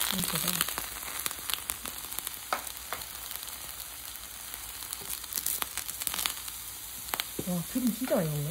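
Steady frying sizzle with crackling oil as eggplant fries, filling the clip, with brief voice fragments near the end.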